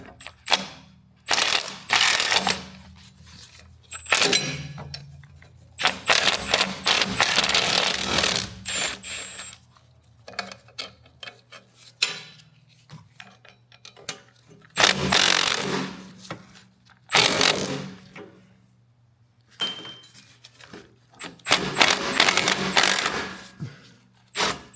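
A ratchet wrench loosens a 16 mm dampener bolt on the CVT transmission of a Dodge Caliber SXT 4X4, giving repeated bursts of close, loud clicking ratchet strokes separated by short pauses.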